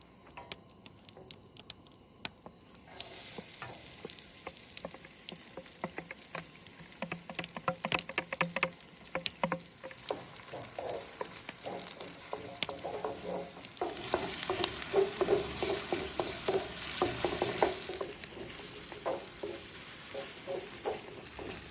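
Half an onion and four or five garlic cloves frying in oil in a skillet, a steady sizzle with scattered crackles and stirring scrapes that swells louder midway and carries on unbroken with no talking.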